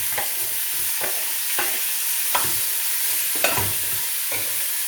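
Lamb sealing in a hot pan with cumin, a steady sizzle broken by about half a dozen scraping stirs at a fairly even pace, close and clear with no voices.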